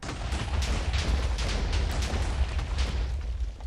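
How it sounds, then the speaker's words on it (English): TNT keeps exploding in modded Minecraft, a rapid run of booming blasts that merge into a continuous heavy rumble, loud and close. "after lit, it shoots TNT in the air and comes crashing down"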